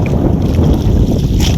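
Strong wind buffets a fishing boat out at sea at night, a loud, rough, continuous roar of gusts hitting the microphone for a brief moment, with no voices.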